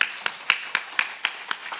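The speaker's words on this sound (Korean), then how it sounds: "이거 이해됐으니까 박수 한번 치야지" A church congregation claps in steady rhythm, about eight sharp claps spaced evenly at roughly four per second, moderately loud in a reverberant worship hall with no voices over it.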